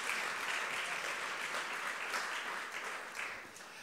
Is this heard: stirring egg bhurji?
no